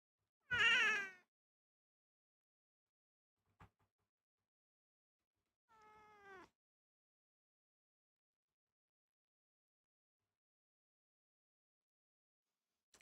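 A house cat gives one clear, close meow, and a shorter, fainter meow follows several seconds later. The rest is near silence, with only a small tap and a click.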